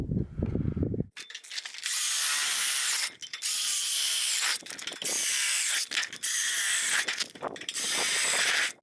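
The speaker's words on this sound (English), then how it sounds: "now I'll go ahead and drill my holes" A power drill bores holes through a steel fire pit ring, a harsh grinding whine running in long bursts broken by brief pauses, close and loud.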